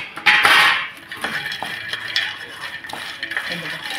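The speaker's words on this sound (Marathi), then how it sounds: "हे आता आपल्याला असं मिक्स करून घ्यायचं, याच्यामध्ये थोडा मसाल्याला लावून घ्यायचं" Makhana (fox nuts) tossed with turmeric, coriander powder, asafoetida and red chili spice in a pan, giving dry rattling and scraping from a spoon against metal, loudest in an opening burst then softer intermittent stirs, close up.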